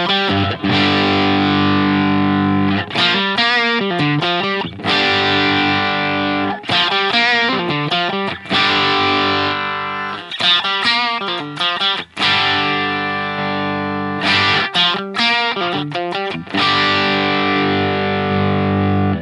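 A distorted electric guitar plays through an Orange OR80 amp model in a Line 6 Helix, chugging thick, saturated chords in rhythmic bursts separated by brief stops, loud and up front throughout.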